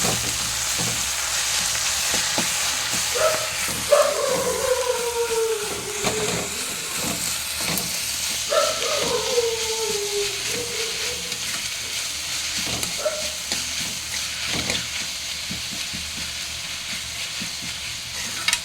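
Drumstick leaves and ivy gourd fry in a pan while being stirred, a continuous close sizzle and hiss broken by scraping sweeps of the spoon and light clatter.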